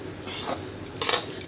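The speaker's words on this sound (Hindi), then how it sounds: "तेल क्योंकि हमारा काफ़ी गर्म था तो उसके अंदर सूजी डालते ही फटाफट से ये जो है वो" Semolina (suji) roasting in hot oil, stirred in a pan with a soft sizzle and scraping, plus a couple of brief clinks of a utensil against the pot near the end.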